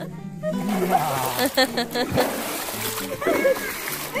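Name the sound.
people splashing while playing in a swimming pool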